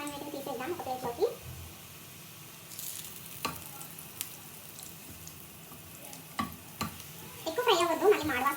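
Onions frying in oil in a pan for an eggplant biryani, a steady low sizzle with scattered clicks and scrapes of stirring, and a voice talking at the start and the end.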